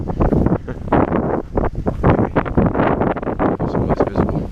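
Strong wind gusts buffet the microphone outdoors on flat Florida terrain, a loud, continuous roaring rumble with irregular bursts and no speech.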